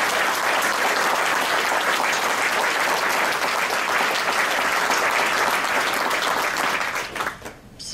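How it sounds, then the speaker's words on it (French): A crowd applauds the venues at a live event, sustained dense clapping that stays loud and even for several seconds before thinning and fading out near the end. "est-ce qu'on peut applaudir nos lieux?"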